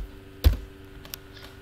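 Keystrokes on a computer keyboard as Linux terminal commands are typed: one sharp, loud clack followed by a few lighter taps, close and isolated in a quiet room.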